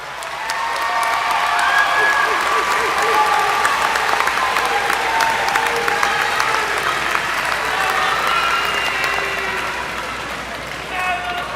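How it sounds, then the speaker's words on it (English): A large crowd at a high school graduation ceremony applauds continuously, loud and sustained, with a few scattered cheers, then the clapping slowly tapers off. "Give them a round of applause."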